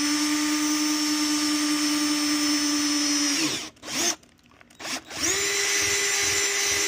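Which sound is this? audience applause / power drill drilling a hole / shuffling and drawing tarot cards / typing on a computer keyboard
power drill drilling a hole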